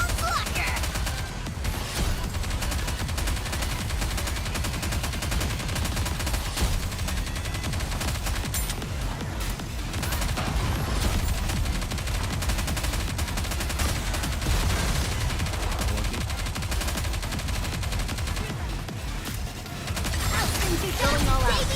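Dense, continuous gunfire in the video game Goddess of Victory: Nikke, rapid overlapping bursts that barely let up, loud and close throughout, with faint voices mixed in.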